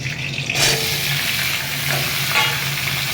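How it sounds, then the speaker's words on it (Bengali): Curry leaves crackling in hot oil, a continuous close sizzle with occasional stirring scrapes and brief spits. "তেলের মধ্যে দিয়ে দিলাম কারি পাতা"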